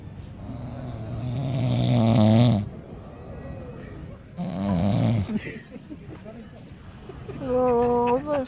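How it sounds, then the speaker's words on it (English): A person snoring: three loud, rasping breaths spaced a few seconds apart, close by, with quieter breathing between them. "don't film me snoring"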